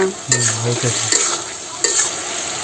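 Fish pieces tipped into a bottle gourd curry in a pan and stirred, with a close, steady sizzle and a few scraping spoon strokes, no talking.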